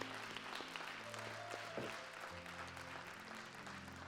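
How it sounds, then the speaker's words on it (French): A church congregation applauds in a steady, faint patter of clapping, with music tones and a voice briefly audible underneath. "Amen, on peut acclamer le Seigneur."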